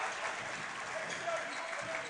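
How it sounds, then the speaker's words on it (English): Crowd at a boys' high school basketball championship game claps steadily and fast, a broad dense wash of applause heard from within the gym, with the clapping swelling slightly partway through. "now it's not a slow clap anymore"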